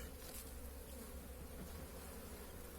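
A colony of honey bees in a hive, being fed sugar syrup from a perforated bag, keeps up a steady, dense buzzing drone that fills the whole stretch at a constant level, close by and with no voices.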